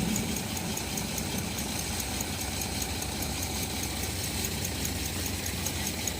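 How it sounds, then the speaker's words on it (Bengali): A ferry vessel's engine runs on the Ganga crossing from Balagarh, a steady mid-pitched idling drone with a faint knocking rattle, close and continuous with no talk. "আমাদের ভেসেলের ইঞ্জিন স্টার্ট করে দিয়েছে দাদা"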